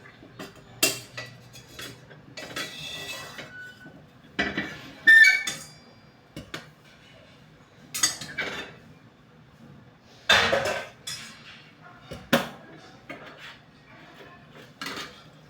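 A utensil stirs a vegetable curry of chavdar beans in a pan, giving intermittent clinks and scrapes of metal against cookware at close range, with short pauses between strokes and no talking.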